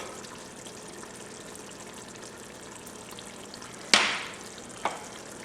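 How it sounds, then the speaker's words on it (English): Vegetables and minced garlic sauteing in a pan, a steady close hiss of frying with one sharp burst of louder sizzle and a smaller second spike near the end, no voices. "we're going to let this continue to saute for another couple of minutes"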